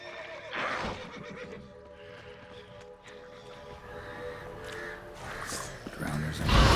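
A horse-drawn merchant's wagon in The Witcher 3 video game, with a horse whinnying loudly and hooves clip-clopping under a low rumble, a voice speaking briefly in between.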